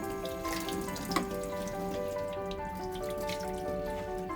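Warm tap water runs steadily as the bean container of a Miele built-in coffee maker is rinsed in a sink, a continuous close splashing stream at moderate level with no talking.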